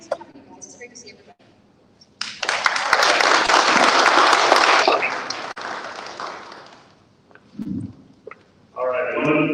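A room of attendees at a cybersecurity lunch-and-learn breaks into a loud burst of applause that lasts several seconds and then tapers off, with talking before and after.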